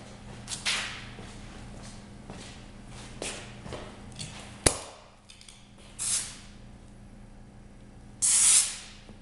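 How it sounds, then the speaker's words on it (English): Compressed air is blown into a car tire to seat the bead, giving several short sharp hissing bursts with pauses between them, plus one loud pop near the middle, all close by. "Just use compressed air to get it to grab."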